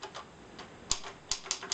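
A vintage 1936 Hermes Baby portable typewriter being typed on, giving a handful of sharp, separate key strikes spaced irregularly, close and fairly quiet, with no voice over them.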